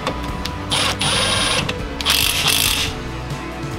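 Oil drain bolts being threaded into both sides of a 460cc engine block, heard as close mechanical ratcheting and metallic clicking in uneven bursts, with no speech.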